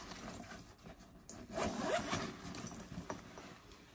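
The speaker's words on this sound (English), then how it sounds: "And it zips up like that." A green clinical nursing backpack is zipped shut, the zipper rasping in a continuous scratchy pull that swells midway, close and clear with no talking.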